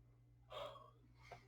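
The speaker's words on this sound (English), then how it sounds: "oh no, another yawn." A single close, quiet yawn: a breathy drawn-in gasp followed by a softer exhaling sigh, over a low steady hum.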